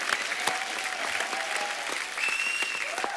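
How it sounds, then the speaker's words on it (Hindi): Studio audience at a comedy talk show claps in a steady, dense burst of applause lasting a few seconds, loud and sustained with a few whoops cutting through. "और शिखर पाजी के लिए भी जोरदार तालियां।"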